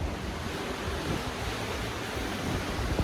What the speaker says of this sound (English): Listen to that wind blowing